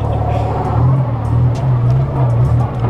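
A car engine revving hard during an attempt at donuts, a loud steady drone that rises and falls in pitch, with people talking over it.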